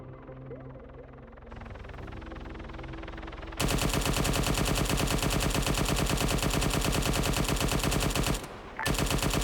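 Sustained automatic gunfire in a video game, a loud continuous rapid rattle that kicks in after a quieter rumbling stretch, briefly cuts out near the end, then resumes, with no talk.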